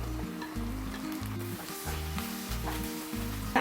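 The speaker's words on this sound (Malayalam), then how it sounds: "ശേഷം ഇത് നന്നായിട്ടൊന്ന് ഈ എണ്ണയിലൊന്ന് വഴറ്റിയെടുക്കണം" Onions and shallots with added tomato sautéing in oil for a Kerala-style mutton liver roast, a steady close sizzle with light stirring scrapes throughout and no talking.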